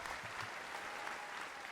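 A studio audience claps steadily in a dense, continuous wash of applause, close and even, with no pauses.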